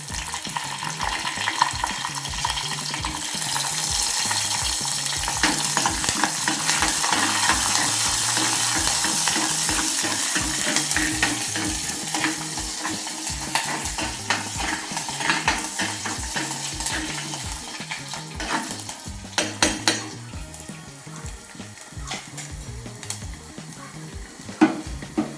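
Garlic sizzles steadily in hot oil in a pan while a utensil stirs it in a constant scraping rhythm, close and moderately loud, with a few sharper clinks near the end.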